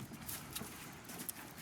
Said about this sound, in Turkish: Arkadan da ayak sesi geliyor.